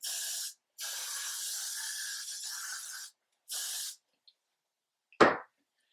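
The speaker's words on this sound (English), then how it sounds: "now I'm going to spray my hair with some Got2b freeze gel" Hissing bursts from a Got2b Freeze hair spray can, one long spray followed by a shorter one, then a sharp clatter near the end.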